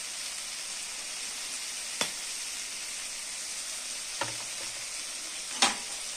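Paneer fries in a pan with a steady, soft hiss of sizzling oil, broken by a few faint clinks or stirs of a utensil.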